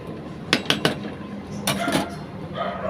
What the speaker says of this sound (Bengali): বেগুনটা দিয়ে আবারও নাড়াচাড়া করে নেব